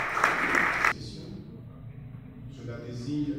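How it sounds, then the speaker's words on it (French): Applause from an audience greets a speaker at a departmental forum on reforming Haiti's civil registry system: a dense, loud burst of clapping for under a second that cuts off abruptly, followed by quieter room noise and talk. "Il s'amène sur l'éclat de vos acclamations"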